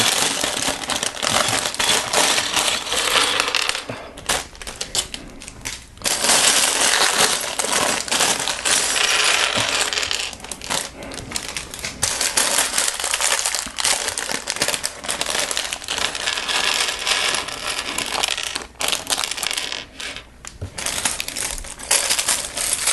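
Small plastic pieces from a Lego Elves set spill out of bags onto a surface in a long, dense clatter and rattle, with a crinkle of packaging and brief pauses between pours, close and without speech.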